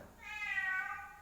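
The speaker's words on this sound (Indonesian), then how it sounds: "itu suara kucing di belakang" A single drawn-out cat meow, somewhat faint and from a distance, with no other sounds.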